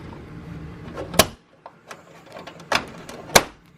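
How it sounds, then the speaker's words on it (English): Plastic D clips snap into the holes on the back of a Ralliart Evo hood scoop: two loud, close pops separated by quieter handling clicks and rustles, heard alone without voices. "Just gonna push until you hear a nice little pop."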